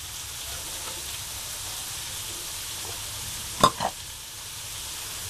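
Garlic sautés in a pan for pancit bihon guisado with a steady, soft sizzle throughout, broken by a couple of brief utensil clinks near the end and no talking.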